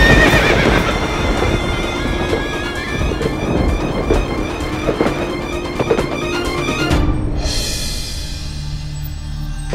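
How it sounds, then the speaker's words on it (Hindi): A horse whinnies over a steady clip-clop of hooves in a haunted-mansion thriller scene, loud and close, with rain and distant rumbling thunder beneath; no talking. "हमने घोड़े के चलने की आवाज सुनी।"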